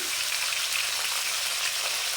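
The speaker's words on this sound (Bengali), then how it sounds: "এবার সিমগুলি ভেজে নেব" Broad beans fry in hot oil in a pan with a little salt, giving a steady, even crackling sizzle throughout with no voices.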